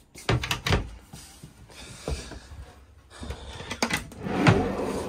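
A cupboard under the galley sink on a Buccaneer Cruiser boat opens with a few close wooden knocks and clunks, then rattles and shifts as the door swings and settles.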